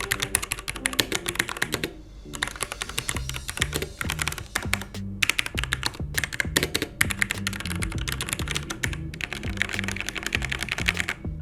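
Fast typing on an ROG 65% computer keyboard, crisp close keystrokes in rapid runs broken by a few short pauses, with a low thumping tone running underneath and no speech.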